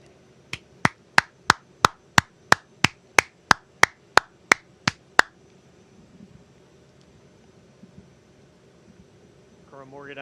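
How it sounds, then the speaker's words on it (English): Sharp, evenly spaced claps, about a dozen in a steady rhythm, ring out close at an Army oath of enlistment ceremony at Space Center Houston. They stop abruptly, leaving a quiet room before a faint voice begins. "Let's give an enormous round of applause to these great Americans"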